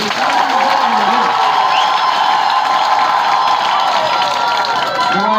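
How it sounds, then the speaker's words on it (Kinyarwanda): A large outdoor crowd applauds and cheers without a break at a welcoming gathering in Minembwe, with dense clapping mixed with shouts and whoops held loud for the whole stretch. "mwakubise amashyi mwese"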